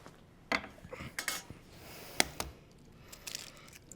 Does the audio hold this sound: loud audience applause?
no